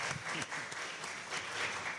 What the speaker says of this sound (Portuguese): Eu pediria uma salva de palmas aqui para o trabalho